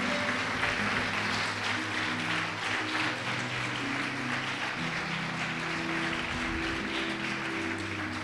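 Church congregation applauding in a large hall, with dense sustained clapping from many hands filling the space over a low background hum.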